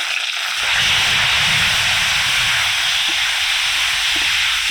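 Boneless chicken pieces, about 150 g, drop into hot oil with chopped ginger and garlic in a kadai, setting off a loud, steady close-up sizzle and hiss that holds continuously without talk.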